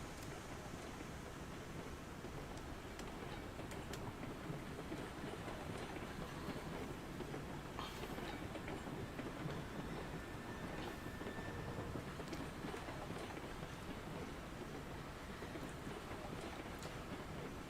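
Freight train hauled by the locomotive Montezuma rolls steadily along, a continuous low rumble and rattle of wagons with faint clicks throughout, fairly distant and even in level.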